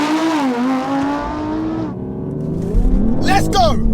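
A remapped family car accelerates hard in a race at close range. The engine note climbs through gears, then a car rushes past, with excited shouting over it.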